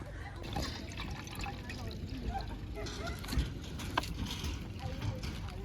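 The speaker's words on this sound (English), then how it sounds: "I'm just filling up my canteen with some water for my noodles" Water pours into a canteen at a camp site, a faint steady trickle with a few small drips and knocks, heard close but quietly with voices in the background.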